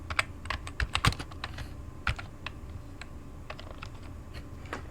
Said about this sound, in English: but I'm gonna type it in.